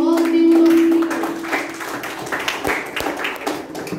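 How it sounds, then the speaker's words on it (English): Meeting attendees clap for the speakers at a youth leadership session, scattered hand claps starting after a brief tone and building into light, uneven applause close by. "Please give a thunderous round of applause to all the people of speakers."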